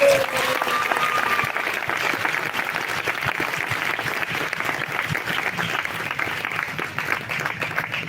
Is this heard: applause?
yes